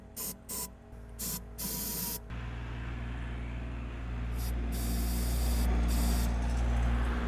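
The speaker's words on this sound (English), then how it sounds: "spray a little bit of oil down each cylinder" Short bursts of oil spray from an aerosol can into the spark-plug holes of a Model A engine's cylinders, several quick hisses in a row, then a longer blast, close and loud over a steady low hum.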